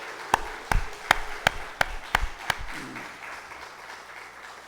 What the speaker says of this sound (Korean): 우리 청년들을 위해서 한번 크게 박수로 격려하고 축복합시다